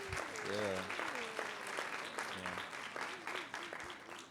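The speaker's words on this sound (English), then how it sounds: "can we just get a round of applause for this wonderful panel?" Quiet, distant applause patters along steadily while a few voices speak over it, for a panel at a youth leadership conference.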